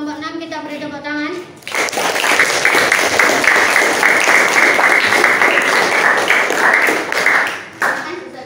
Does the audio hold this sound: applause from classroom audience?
yes